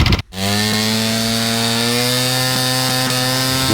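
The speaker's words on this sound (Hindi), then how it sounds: "इंजन की आवाज़ सुने" A classic Honda motorcycle engine idles steadily and close up, its buzzing hum carrying a faint, regular tapping from a worn cam gear after a brief dropout at the start.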